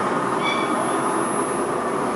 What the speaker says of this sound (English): Tram, and a Soviet steam train is coming your way